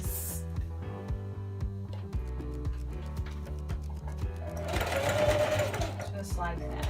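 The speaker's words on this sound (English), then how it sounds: "you're just going to sew through all thickness" A sewing machine stitches through elastic and all fabric layers on a tube dress. Its needle keeps up a steady, rapid mechanical chatter for the whole stretch, close and loud, with a brief burst of brighter whirring near the end.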